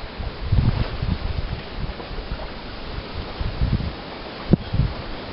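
Wind gusting outdoors across an exposed microphone, low rumbling buffets swelling and fading in uneven bursts, with one sharp knock near the end.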